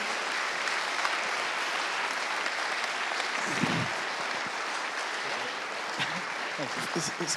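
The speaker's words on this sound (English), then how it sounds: "So one more round of applause, because they have done more work than everyone else put together." Steady, sustained applause from a conference audience at a security event's closing ceremony, filling the room evenly for several seconds, with a few voices rising near the end.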